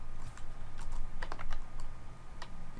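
Fast computer keyboard typing while a Cisco router configuration is pasted in, a quick run of close key clicks over a steady background hum.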